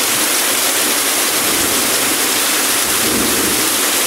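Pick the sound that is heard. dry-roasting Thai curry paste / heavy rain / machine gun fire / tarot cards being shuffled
heavy rain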